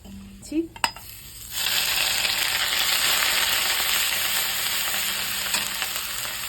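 Whole spices and dried chili frying in a pan of oil for a vegetarian potato curry, opening with a couple of knocks before a loud, dense, continuous sizzle swells up and holds steady, close and without speech.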